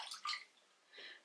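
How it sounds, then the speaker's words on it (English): A face cloth is dipped and wrung in a bowl of water, making a few quick, soft splashing and trickling bursts close to the microphone, separated by a short pause. "I'm using a face cloth and a bowl of water and I hope I don't get water everywhere"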